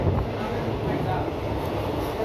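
The Rupasi Bangla express train runs past at high speed, a heavy continuous rumble and clatter close by.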